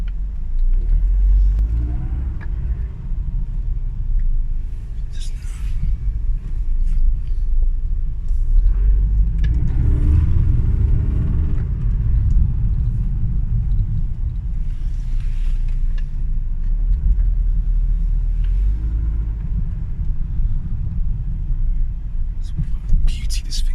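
A Mercedes W124 E220 coupe, rated at 150 horsepower and halfway through restoration, rumbles steadily on its first drive, a low continuous engine drone with road noise that swells slightly in places, with faint talk at times.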